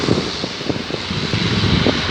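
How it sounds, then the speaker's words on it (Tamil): A Virgin Australia airliner flies near Sydney Airport, its engine a loud, steady rumbling roar throughout. "சரி, இந்த வெர்ஜின் ஃப்ளைட்டோடு வந்துடும்."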